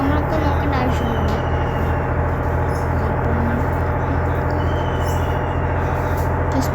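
Bus engine in Bus Simulator India, a steady low drone running throughout with brake hiss mixed in, loud and continuous under a voice talking.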